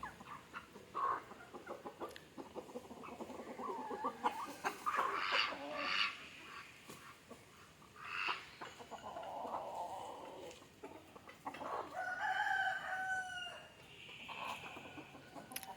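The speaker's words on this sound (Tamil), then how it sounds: "எல்லா இடத்துலையும் அடக்கோழி இருக்கு ப்ரோ" Native country chickens cluck in repeated bursts while a rooster crows, the calls close and moderately loud, overlapping through the whole stretch with some background rustle.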